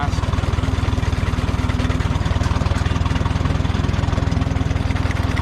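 Minneapolis Moline 69 Jet Three Star Super tractor engine idling low while sickle bar mowing a ditch, a steady rapid throb that is loud, close and constant, with no talk.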